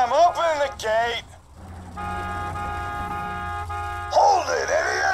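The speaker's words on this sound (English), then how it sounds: "Just drive up and honk your horn." A vehicle horn honks in the Borderlands 2 video game, a steady sustained tone lasting a couple of seconds between stretches of character speech, with engine rumble underneath.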